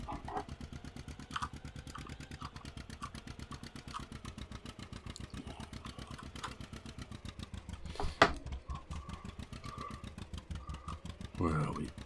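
A John Deere Model D tractor engine runs with a steady, rapid putt-putt firing rhythm throughout, loud and close, with a few brief clatters near the end.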